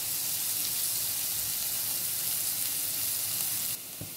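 Onions fry in a pan until golden brown, a steady, fairly close sizzle that stays even before dropping abruptly near the end, followed by a faint clink.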